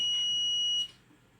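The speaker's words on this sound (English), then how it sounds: "you can hear the buzzer sound" A piercing high-pitched electronic buzzer tone from an Arduino flame sensor fire alarm holds steadily for under a second, then cuts off abruptly, leaving quiet room noise.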